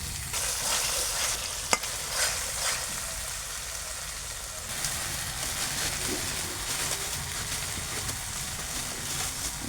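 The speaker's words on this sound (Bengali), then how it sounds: "এখন মশলাটা ভালো মতো আমি এটা কষাবো" Spice paste for a country chicken dish is stir-fried in a pan in a village setting, with a steady close sizzle, repeated scraping stirs and one sharp utensil knock early on.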